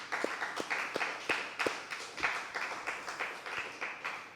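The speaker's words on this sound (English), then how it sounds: "So please give them all of them a round of applause." A congregation applauds inside a church after a feast Mass, a fairly faint, steady wash of many hands clapping with sharper individual claps standing out near the front.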